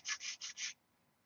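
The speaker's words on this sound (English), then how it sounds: "sand the lump off, straighten it out, and it did." Sanding block rubbed over a slight lump on the trailing edge of a control-line model aircraft, four quick, close, dry rasping strokes in a steady rhythm, then near silence.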